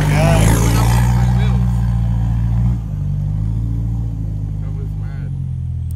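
A Toyota Prado 4x4 on highway tyres works its way along sandy heath tracks, the engine droning loud and close with a steady mid-range hum that eases slightly partway through, while people talk over it.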